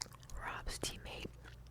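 Gum chews wetly and closely with soft smacks and clicks, mixed with quiet whispering, in an intimate ear-to-ear recording.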